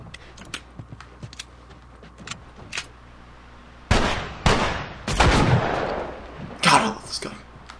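A gun fires in The Last of Us Part II with several sharp, loud shots spaced irregularly over a few seconds, each with a short echoing tail, following quieter clicks and scuffles.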